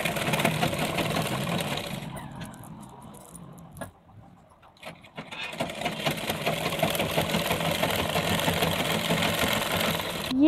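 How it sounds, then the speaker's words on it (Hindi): A sewing machine stitches over the lining of a choli-cut blouse, running in a steady mechanical whir that pauses briefly in the middle and then resumes at full pace, close and continuous. "पलट के इस पे हम अस्तर के ऊपर से मशीन चलाएंगे।"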